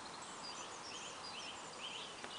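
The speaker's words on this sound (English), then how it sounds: "Some ducks up there." Ducks call faintly from a distance over a carp fishing lake, a few soft quacks set against steady outdoor background hiss.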